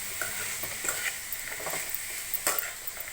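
Pieces cook in oil in a pan while being stirred, a continuous bright sizzle with occasional light scrapes and clinks of the spoon, close and steady, no talk.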